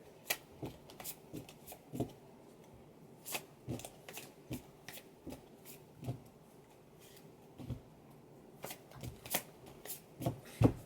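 Tarot cards riffle and slap together in repeated quick shuffles, close and crisp, with short pauses between bursts.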